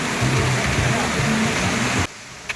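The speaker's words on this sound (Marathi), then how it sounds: "धबधब्याच्या पाण्याचा आवाज वाढायला लागला" Rushing water from the Bhagsunath waterfall, which drops about 30 feet, makes a dense, steady roar for about two seconds, then cuts off abruptly into near quiet.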